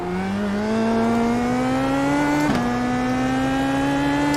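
An IndyPro race car screams around Laguna Seca in a racing video game, its engine holding a loud, steady high whine that climbs gradually as it accelerates, with a brief glitch midway.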